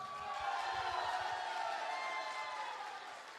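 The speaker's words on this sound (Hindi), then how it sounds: "तो एक जोरदार तालियां बजाओ अपने लिए।" A seminar crowd sends up a dense, steady wash of clapping and cheering that swells early and then slowly eases off, with no talking over it.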